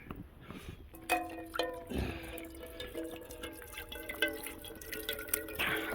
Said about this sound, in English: First of the sap is going into the pot, and we'll boil it down until it is maple syrup